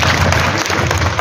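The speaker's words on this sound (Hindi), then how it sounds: "आपके लिए सम्मान के लिए ताली बजाइए" An audience claps for a daughter of the community honored as a journalist at the Rangrez Samaj talent award ceremony in Bhilwara, a brief dense burst of steady applause filling the hall.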